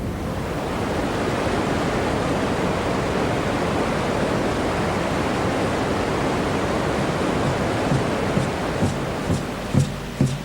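Iguaçu Falls in Brazil, a waterfall roaring as a dense, steady wash of noise, loud and unbroken throughout.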